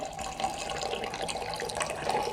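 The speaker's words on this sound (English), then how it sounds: "I'm gonna give you some tea pouring" Tea pours for a coconut lemongrass latte in a steady, continuous stream of liquid, close and moderately loud.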